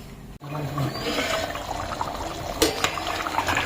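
A pot of spicy Tamil mutton curry bubbles and simmers steadily, liquid gurgling close up with a few louder pops near the end.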